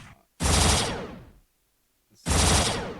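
Gunshot sound effects dropped into a song: two loud, broadband gun blasts about two seconds apart, each a sharp attack decaying over roughly a second, with a short silent gap between them.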